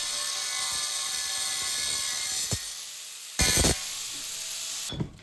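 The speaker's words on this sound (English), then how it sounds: "drill it out, so all I have to do is make a couple cuts with the angle grinder" An angle grinder cutting steel for a vise stand, a loud continuous high whine that stops and restarts in short bursts.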